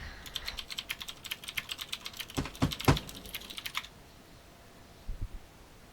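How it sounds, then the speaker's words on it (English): Fast typing on a loud mechanical computer keyboard, a close, steady burst of sharp key clicks lasting a few seconds, then quiet with a couple of final taps. "Keyboard's loud."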